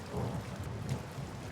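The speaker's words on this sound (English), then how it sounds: "We're having quite a storm tonight." Steady rain pours during a thunderstorm, with a low rumble of thunder rolling underneath, forming a continuous dense wash of sound at moderate loudness.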